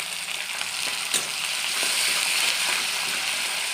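Chopped tomato goes into a wok with fried onion and sizzles steadily in oil, a close hiss broken by a few soft stirring clacks and brief pops, with no voices.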